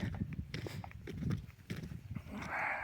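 Livestock being driven along a roadside, with horse hooves clip-clopping in an uneven rhythm close by and faint rustling, briefly joined by a soft higher tone near the end, with no talk.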